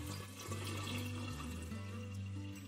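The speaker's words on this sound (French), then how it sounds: "je vais verser mon thé, donc qu'on a préparé tout à l'heure" Sweetened tea poured from a pot into a container, a continuous trickling stream of liquid with a steady watery hiss, faint and close.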